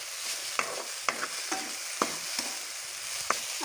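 Kakara pitha mixture roasting in a pan, with a spatula scraping and stirring in about six sharp, evenly spaced strokes over a soft low sizzle.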